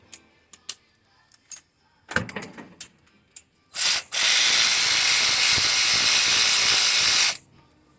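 A ratcheting wrench, 7/16 size, turns the bolts on the fuel pump plate of a 1971 Chevelle with a mechanical fuel pump. A few light metallic clicks and taps come first, then a loud, steady run of close ratcheting for about three seconds.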